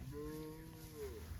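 A beef cow among cow/calf pairs on an Alberta ranch at Coronation lets out a single drawn-out moo lasting over a second, moderately close and clear, with no talk over it.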